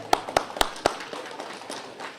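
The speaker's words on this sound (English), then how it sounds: "applause to everyone who helped out for tonight" Brief applause for helpers at an A.Y. Jackson exhibition unveiling evening: four sharp, evenly spaced claps ring out close and loud, then thin into faint scattered patters and room murmur.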